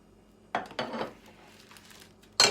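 A metal baking tray clatters down onto a kitchen counter while frozen fruit-salad yogurt ice cream is being prepared, giving two close, sharp knocks early on and a brighter clink at the end, with no talking.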